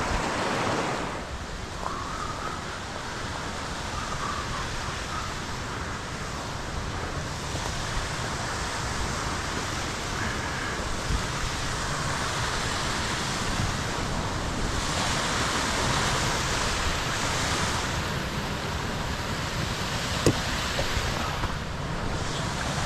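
A waterfall and trout stream rush steadily nearby, a broad unbroken roar of flowing water that holds at an even level for a long stretch with no voices.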